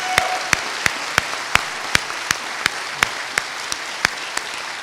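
A commencement ceremony crowd applauds the Hampton family in a steady wash of clapping, punctuated by a sharp, evenly spaced beat of louder claps throughout.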